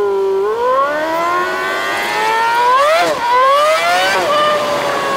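A Ferrari engine revs up through rising, climbing gears with a loud, clear exhaust note, a short dip and another surge near the end, heard up close from the car.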